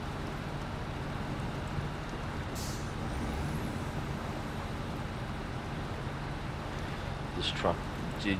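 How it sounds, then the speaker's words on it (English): Truck-driving video game with an underpowered logging truck: a steady, loud engine drone runs throughout, a short hiss of air brakes comes in near the middle and another brake hiss arrives toward the end. "This truck did use quite a bit of fuel"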